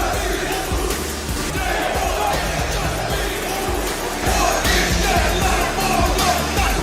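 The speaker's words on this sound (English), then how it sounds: "the entire crowd goes concert mode and starts yeeting along" A wrestling arena crowd sings along to an entrance theme, a dense and steady roar of many voices that fills the whole stretch with hip-hop music underneath.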